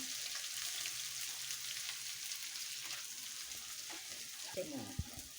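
Onions frying in a pan for Bangladeshi polau give a faint, steady sizzle, with brief stirring clatter and a sharp knock near the end, all quiet and with no talking.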